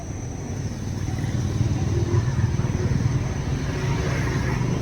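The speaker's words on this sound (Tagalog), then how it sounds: "Nakita nyo yung mga nagdadaanan na yung motor, bibilis." Motorcycles and other vehicles speed past on a road in front of three-storey government housing buildings, making a steady, moderately loud engine rumble that swells slightly midway, with no talking.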